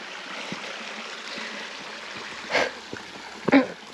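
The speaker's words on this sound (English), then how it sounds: "I apologize for the stream noise" Continuous babbling stream flowing along a slow summer walk past waterfalls, a steady close wash of running water with a couple of brief louder splashes or bumps near the end, no talking.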